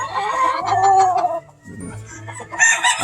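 A Whitehackle rooster of the Gilkerson North Bred line crows loudly and close by in a farm pen in Georgia, with hens clucking around it before and after the call.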